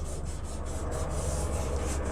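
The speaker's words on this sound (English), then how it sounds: "So you're rubbing all over your cover" Blue dye is rubbed over an embossed hardcover journal cover, making a continuous close scratchy rubbing with a steady back-and-forth texture and no speech.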